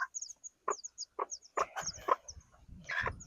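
A native country mother hen on a farm gives an alert call to her chicks: a run of short, quick clucks in uneven bursts, close by, with a few higher peeping notes mixed in.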